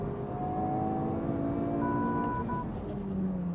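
A Toyota GR Yaris or Honda Civic Type R FL5 engine hums steadily and low from inside the cabin, with a faint rising whine as it accelerates.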